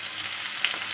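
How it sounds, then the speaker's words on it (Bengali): Batter with white sesame seeds and curry leaves sizzles steadily in a hot pan, a dense, close hiss of frying for a quick breakfast dish, with no talking. "এবার এই সম্পূর্ণ মিশ্রণটা কিন্তু এর মধ্যে আমি ঢেলে দিচ্ছি"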